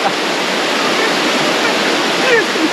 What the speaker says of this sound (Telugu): ఈ కొత్తపల్లి వాటర్ ఫాల్